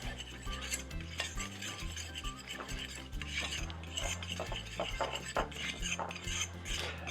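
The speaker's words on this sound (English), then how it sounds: "Now I'm just going to take a fork and I'm just going to mix that together." A fork beating flour, salt and baking powder together in a bowl for a cake batter base, with rapid rhythmic clinks and scrapes of metal against the dish, close and continuous.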